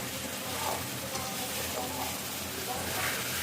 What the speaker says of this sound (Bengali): তো দেখুন আমি এই সুন্দর করে কষিয়ে নিচ্ছি মশলাটাকে